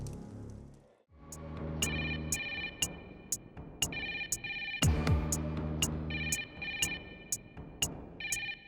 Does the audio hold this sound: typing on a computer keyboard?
no